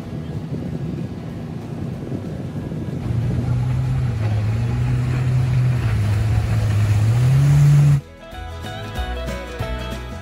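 Racing boats on Lake Michigan at Navy Pier in Chicago roar with a loud, droning engine whose pitch climbs as a boat passes close under wind buffeting, then cuts off abruptly and gives way to music.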